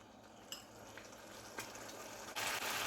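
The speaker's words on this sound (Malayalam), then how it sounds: "ഗ്രേവി ഇവിടെ തിളച്ച് വരുന്നുണ്ട്." Prawn curry gravy for chemmeen mulakittathu bubbling in a pan over a full flame, a steady close sizzling hiss with a few light clicks and a brighter surge of bubbling near the end.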